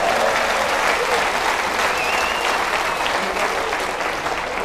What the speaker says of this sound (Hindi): और जोरदार तालियां बजा लीजिए।